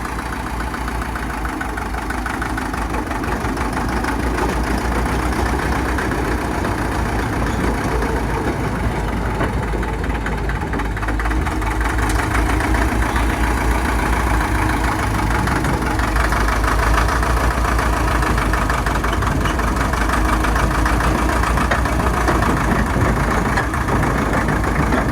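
Pony engine of a restored vintage RD4 dozer idling, a loud, steady, close mechanical rumble with a constant low throb and knocking texture throughout.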